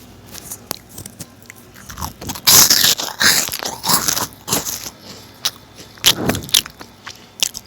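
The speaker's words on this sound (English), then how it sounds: "Just hear that crunch. That feels so good." Crunching bites of food in a Roblox game, a series of loud, crisp crunches and chewing sounds in quick irregular bursts, close and dry with no talking.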